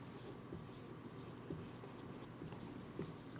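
A pen scratches across paper while an amount is written into an income statement, producing soft continuous scraping with a few small taps from strokes, quiet and close with no talking.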